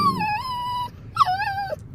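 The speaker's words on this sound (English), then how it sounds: "They've got a dog next door, so these two are going crazy." Two excited dogs whimper and whine at a neighbour's dog, giving high, wavering cries in two bursts separated by a short pause, close and clear.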